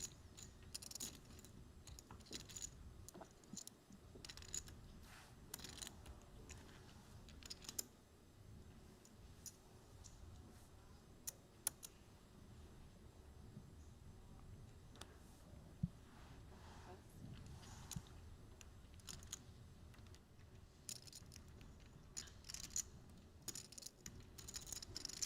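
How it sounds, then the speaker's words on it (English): Poker chips clicking and rattling at a Triton Poker Series no-limit hold'em tournament table in Cyprus, a steady faint stream of soft clacks and ticks in a hushed room, with occasional louder clicks. "You can literally hear a pin drop out there, apart from the chip shuffling."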